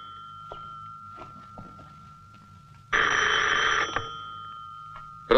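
A telephone bell rings in a quiet room, a steady tone first, then a louder burst of clanging ring for about a second before it cuts off, with faint scattered knocks and movement around it.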